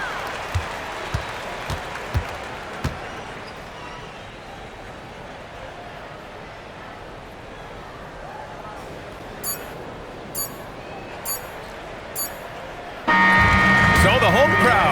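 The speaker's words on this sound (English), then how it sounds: "So the home crowd happy here as they get the victory." Home crowd at a basketball game, with applause and a sudden loud roar of cheering near the end as the victory is sealed; earlier a steady arena murmur, squeaky shoes and a few sharp buzzer-like tones.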